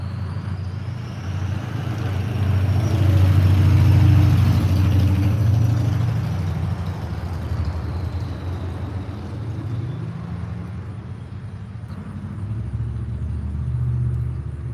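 Low rumble of city street traffic heard from inside a vehicle, a steady engine drone swelling and easing as cars pass, continuous and fairly loud with no talking.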